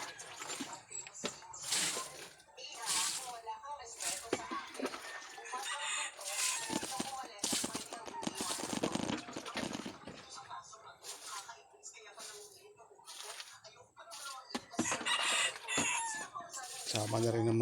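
A rooster crows and chickens cluck repeatedly nearby, overlapping calls in bursts, with a person talking intermittently among them.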